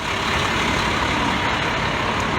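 An FDNY fire engine, Engine 76, pulls up to a fourth-alarm high-rise fire on West 59th Street, its heavy diesel rumble steady and loud over a dense wash of street and crowd noise.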